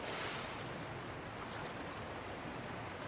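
Rushing water from the video game The Last of Us forms a dense, constant broadband roar, steady and moderately quiet throughout with no voices over it.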